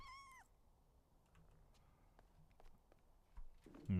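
A cat in the video game Powerwash Simulator 2 gives a short, faint meow at the start, followed by quiet scattered clicks and soft steps, with a low thump near the end.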